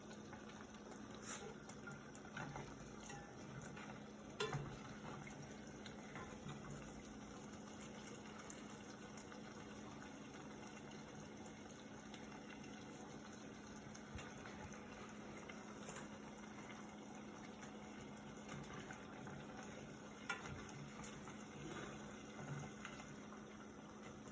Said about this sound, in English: Just let it fry until it gets brown, and then we're going to take it out.